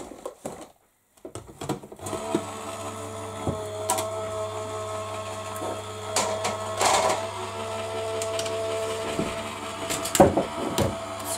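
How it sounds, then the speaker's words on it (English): A die cutting machine runs steadily with a mechanical hum and a clattering, rattling texture, broken by occasional clicks and knocks, fairly close and loud throughout after a brief quiet start. "And then run it through your die cutting machine."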